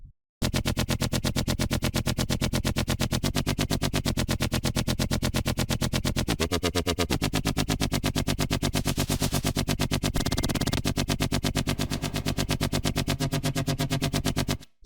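A buzzy synth lead sample for bass house and tech house, named Clear Out, plays a continuous, loud, rapidly pulsing sustained line with a few pitch shifts and a brief brighter swell near the end.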